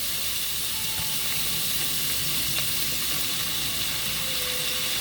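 Tofu simmering in soy sauce in a pan gives off a steady, continuous sizzle and hiss that stays even throughout, close by, with no talking over it.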